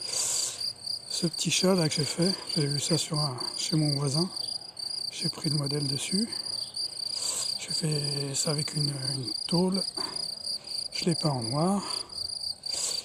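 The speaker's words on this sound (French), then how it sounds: "On entend les grillons là." Crickets chirp in a steady high-pitched drone throughout in a vegetable garden, continuous under someone talking nearby.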